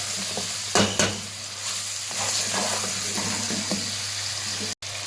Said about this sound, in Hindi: अब हम इसमें सारे स्पाइसेस ऐड कर देंगे, ये डालकर अच्छी तरह से हमने भून लेना।